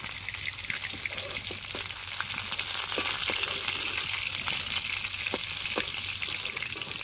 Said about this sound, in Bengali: এই দেখুন, ঠিক এইরকম করেই মাছটা ভেজে নিয়েছি।